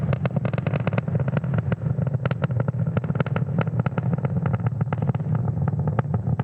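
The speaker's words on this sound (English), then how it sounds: "watching the 60th launch of 2022 Falcon 9 carrying our Starlink payload out into space" A SpaceX Falcon 9 rocket carrying a Starlink payload in 2022, climbing during ascent near Max Q, gives a steady, loud, crackling roar with a deep rumble that holds throughout and has no voices over it.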